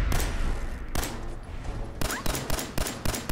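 Gunfire in Fallout 4 against raiders, loud close shots starting as heavy single blasts, then a quick string of rhythmic rounds toward the end.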